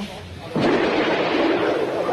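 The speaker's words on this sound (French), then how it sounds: "on entend en direct sur BFM TV à bientôt 11h30 ces coups de feu qui continuent" Gunfire echoes during a police raid on an apartment where an armed suspect is barricaded, heard in a live outdoor news broadcast; a sharp burst begins after a quiet start and rolls on as a sustained, booming rumble.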